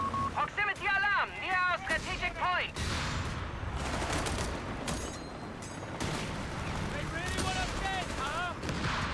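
Grenade launcher and gunfire bursts in the Shadow War strategy video game, rapid cracking shots and explosive thumps in a busy battle mix, with a commentator talking over the action.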